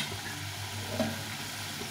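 Bitter gourd cooks in a pan with a soft, steady sizzle and a faint stirring scrape midway, close and fairly quiet.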